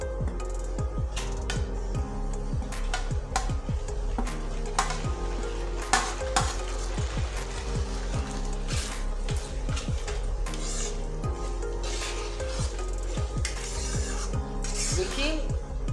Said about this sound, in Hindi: देखिए सॉस में अच्छी तरह से सब्जियों को मैं मिला ली हूँ।